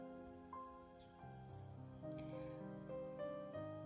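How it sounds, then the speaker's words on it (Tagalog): Steady rain falls in a soft, even patter, heard alongside gentle sustained musical tones. "ang mala white noise na tunog ng ulan"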